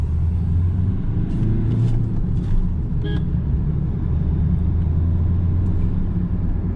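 Inside a Maruti Ertiga diesel under acceleration, a steady low engine rumble and road drone hold throughout, with faint interior clicks and rustles over the top.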